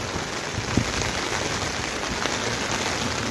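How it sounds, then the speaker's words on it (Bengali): Heavy downpour drums on a hard surface in a steady, dense roar of raindrops, close and unbroken, with one brief louder splash and no voices. "প্রচুর বৃষ্টি, প্রচুর বৃষ্টি,"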